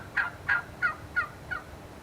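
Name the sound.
wild turkey gobbling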